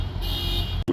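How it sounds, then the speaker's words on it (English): A truck's car alarm sounds, a steady, loud electronic tone that holds for most of a second before briefly cutting out and returning. "I didn't know trucks had car alarms just like regular cars"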